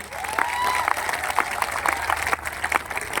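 Enthusiastic applause during an online business meeting honoring a company founder, a busy stretch of clapping with some distinct sharper claps standing out, moderately loud and steady.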